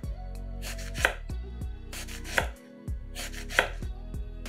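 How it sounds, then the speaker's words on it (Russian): A knife slices an eggplant into rounds about 5 mm thick on a cutting board, giving crisp regular chops roughly every half second, close and alone. "Один баклажан нарезаем кружочками толщиной примерно 5 мм."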